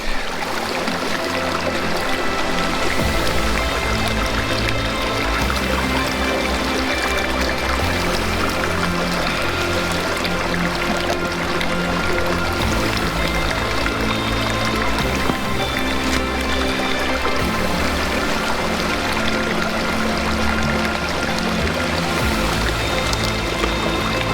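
A wilderness stream in the Sespe backcountry rushes and burbles steadily, a dense, loud, close wash of flowing water that runs unbroken throughout.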